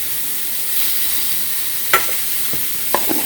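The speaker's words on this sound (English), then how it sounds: "This makes a very big batch of simmering sauce, doesn't it?" Peach glaze sauce simmers on a stovetop with a steady soft hiss and faint bubbling, close by, broken by a couple of brief stirring taps.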